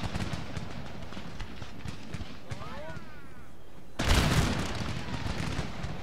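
Massed musket volleys from grenadiers in the strategy game Empire Total War, scattered crackling shots building into a sudden louder burst of fire midway, with battlefield noise continuing afterward.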